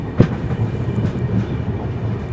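The Andhra Pradesh SF Express runs along the third line with a continuous, close rumble and faint rhythmic clatter of wheels on rails, one sharp knock standing out early.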